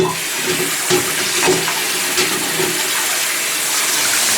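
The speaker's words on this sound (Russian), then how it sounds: "Попросту смываем с тарелки все мыло." Running water gushes steadily, splashing over a drum cymbal as soap is rinsed off, close and fairly loud, with no voices.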